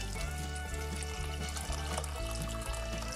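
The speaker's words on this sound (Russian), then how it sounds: "Воду заливаю с чайника горячую, чтобы она уже быстрее закипала." Hot water pours from a kettle into a soup pot holding potatoes, a continuous loud close splashing stream with a low gurgling pulse as the pot fills.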